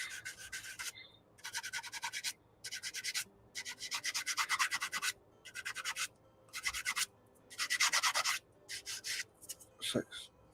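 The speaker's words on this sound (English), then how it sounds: "I need to do a little bit of sanding." Repeated short bursts of sanding a plastic model aircraft part, a dry back-and-forth scratching in quick strokes with brief pauses, close and quiet.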